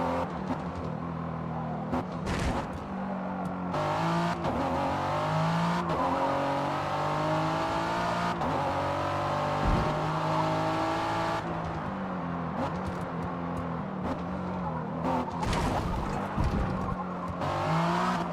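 A Ford car in the Forza video game drives steadily with a loud, continuous engine drone that shifts in pitch, punctuated by repeated short rattling bursts from rumble strips and bumps, with no voices.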